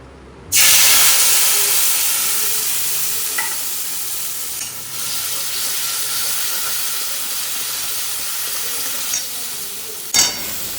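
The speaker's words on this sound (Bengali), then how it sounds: "নিয়ে এবার তেলে দিয়ে দিয়ে এগুলো সব ঢেলে দেব" Spice paste poured into hot oil in a kadai sets off a sudden loud hissing sizzle that slowly settles into a steady frying crackle, with a few faint stirring knocks.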